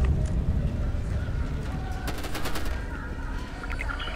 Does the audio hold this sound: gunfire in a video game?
yes